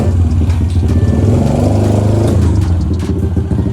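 A mini bike engine revs hard and close during wheelie attempts, a loud continuous buzzing drone that rises and falls slightly in pitch throughout.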